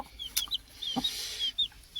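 Backyard chickens and a lone young chick on a home poultry farm, with short clucks and high thin peeps scattered across a couple of seconds, close and fairly clear with no talk.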